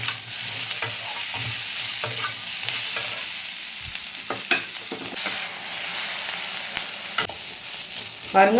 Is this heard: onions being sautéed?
yes